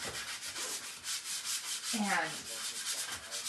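Wood is sanded by hand in steady back-and-forth rasping strokes, close and rhythmic, with a brief spoken word partway through.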